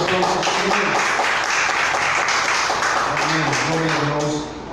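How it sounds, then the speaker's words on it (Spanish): An audience at a Spanish-language church Bible lesson breaks into sustained applause, a dense wash of many hands clapping loudly and continuously that tapers off near the end. "Un aplauso."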